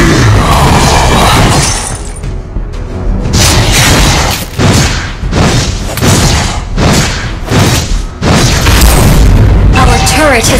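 Repeated booming explosions and crashing impacts from turret fights in the mobile game Mobile Legends: Bang Bang, loud and nearly continuous with rhythmic bursts, and an announcer voice mixed over the battle noise.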